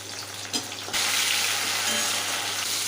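Ginger-garlic paste and tomato hit hot oil in a pan for a shuktô vegetable dish, a short stir then a sudden loud, steady sizzle that fills the rest, with no talk.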